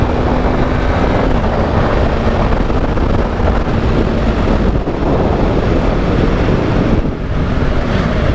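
Steady, loud wind buffeting an outdoor microphone, a continuous broadband roar with gusty swells running the whole time and no voices.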